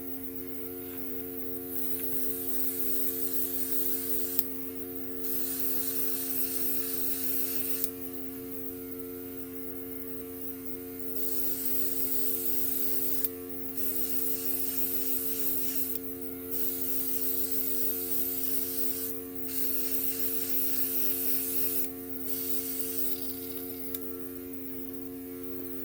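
A Luminess Air airbrush sprays makeup in repeated short bursts over a steady electric compressor hum, the bursts starting and stopping every few seconds, close and fairly loud.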